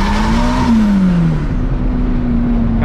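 A turbocharged VW Gol street car engine holds a loud, steady drone near, with one brief upward rev and fall early on, then settles into a sustained throaty hum.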